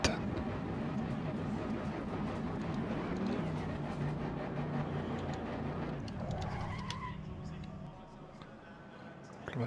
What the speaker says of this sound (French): Le moteur.